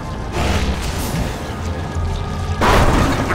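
Grenade explosions in the top-down shooter Alien Swarm: a heavy blast early on under continuous dense combat noise, followed by a second louder, close burst near the end.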